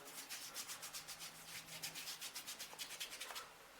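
Hands rub homemade zinc oxide sunblock lotion onto skin in a quiet, close, rhythmic series of soft swishing strokes, alone and faint.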